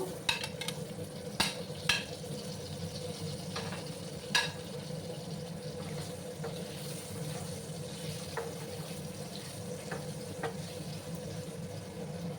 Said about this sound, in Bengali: একটু ভাজা ভাজা করে নিচ্ছি আমি।